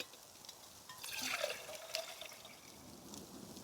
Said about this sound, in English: So now we can put water back in and start boiling water for tea.